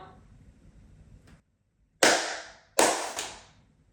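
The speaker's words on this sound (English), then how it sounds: "I can show you guys that it works when I clap my hands" Two sharp hand claps, made to trigger a clap-activated light switch, ring out close and loud about a second apart after a quiet room hum.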